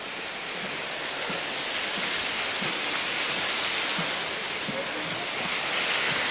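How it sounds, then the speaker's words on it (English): A waterfall on a hike in Monteverde, Costa Rica, roars as a steady, broad rush of falling water that stays constant and fairly close throughout, with no voices over it. "Look at the first waterfall,"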